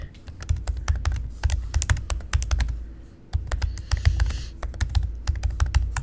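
Rapid clacking keystrokes on a Mac computer keyboard, close and steady with a short pause midway, over a low background hum.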